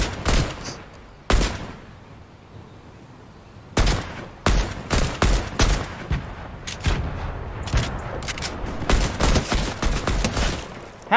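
Rapid bursts of AK rifle fire in the Fortnite battle royale video game, loud and near, with sharp volleys separated by short pauses and denser clusters of shots toward the end.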